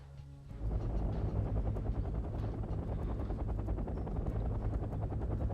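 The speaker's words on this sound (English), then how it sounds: "Get 2 more helicopters over here." Helicopter rotors from the video game Wargame: European Escalation, a steady dense thrumming drone that swells in abruptly and holds loud and continuous with no talk over it.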